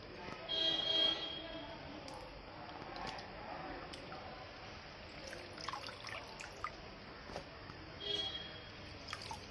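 Water trickles steadily from a household water filter in a home kitchen, a faint continuous flow with a few brief louder moments against low room noise.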